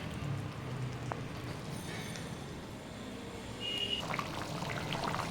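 Water pours steadily into a cooking pot as something simmers, a soft continuous trickling wash with a faint clink, close and fairly quiet throughout.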